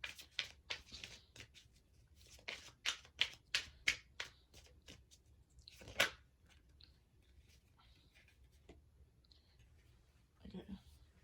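Tarot cards drawn from a deck by hand, a run of soft, close card snaps and slides in quick succession, with a louder flick near the middle and quiet rustling afterward.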